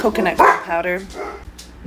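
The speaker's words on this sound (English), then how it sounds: "Sorry about the dog barking in the background." A dog barks in the background of a home while someone speaks over it, short yelps rising clearly through the talk for a moment before settling down.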